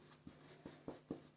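Chalk or a pen taps and scratches while an equation is written, four short strokes spaced evenly and heard close up against a quiet background.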